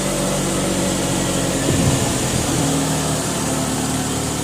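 A Toyota Lovelife AE111 with a 4A engine running steadily at idle, a loud close mechanical hum with a brief rise in revs midway before settling back to a smooth idle.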